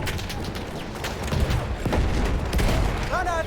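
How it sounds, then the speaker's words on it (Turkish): Grenade blast in Battlefield, a heavy low boom amid continuous gunfire and battle noise, with voices talking over the din. "Hayır çok kötü attık. Çok kötü bir bombaydı."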